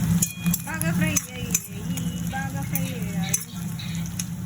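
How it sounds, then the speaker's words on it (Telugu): Onions sizzle in a pan for chicken curry while being stirred, a steady close fry with scraping and clinks of a spoon, under a person talking. "ఆనియన్స్ చూసారా, బాగా ఫ్రై అయ్యాయి."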